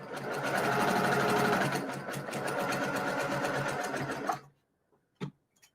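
A sewing machine stitches the final seam of a quilt block, a fast, steady mechanical whir for about four seconds that stops abruptly, followed by a couple of soft clicks.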